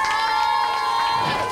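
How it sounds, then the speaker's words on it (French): A crowd of children cheers and shouts at an agricultural fair expo in Gap, a loud continuous burst of excited voices with a steady tone running underneath. "Vous pouvez vous applaudir et moi je vous applaudis"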